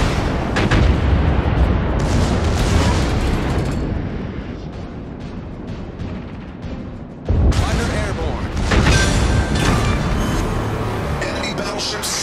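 Battleship main guns fire in World of Warships, a heavy booming naval battery with loud, dense blasts and a brief lull before a second barrage, with a voice speaking over the action.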